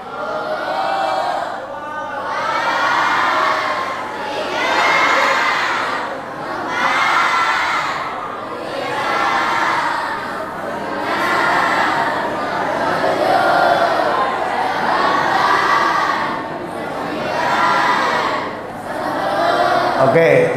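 A large group of pesantren students shouts the takbir in unison, ten rhythmic chanted bursts with short pauses between them, loud and close, filling an indoor hall.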